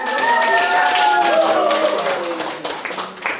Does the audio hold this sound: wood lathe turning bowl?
no